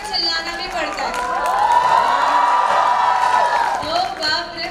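Seminar audience in a hall erupting in loud cheering, whooping and clapping, a swelling mass of many voices that peaks midway and stays energetic throughout.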